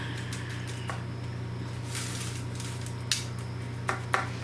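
Steak seasoning is stirred in a dish, with light clinks and scrapes of cutlery against the bowl over a steady low background hum, a few sharper taps standing out near the end.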